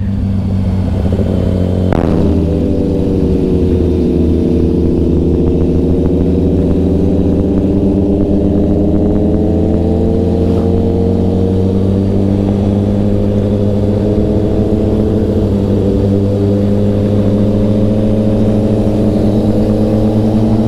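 Superbike engine, a Kawasaki ZX10R or Hayabusa, on a ride: a loud, steady, close engine drone with a gear change early on, after which the pitch climbs gradually as the bike keeps pulling.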